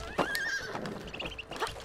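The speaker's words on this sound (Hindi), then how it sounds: "घोड़े का साउंड है" Horse neighing in the video game It Takes Two: a loud whinny with a rising, wavering call, then a second shorter neigh near the end, with faint hoof clip-clops alongside.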